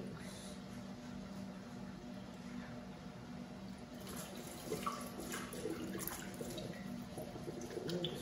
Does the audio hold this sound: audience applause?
no